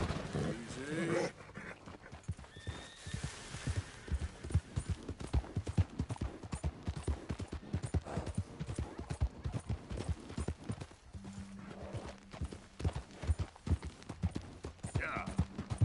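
Horse hooves clip-clop steadily in the video game Red Dead Redemption 2, a close, even rhythmic trot lasting throughout, with brief voice sounds and a dog-like pant in places.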